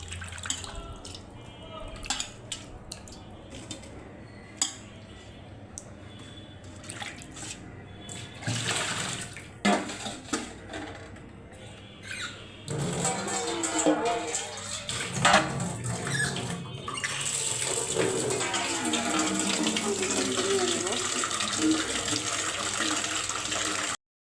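Fish are washed under a running tap, with splashing, dripping and the rush of water coming and going, then a steadier stream near the end, all close and moderately loud without talk.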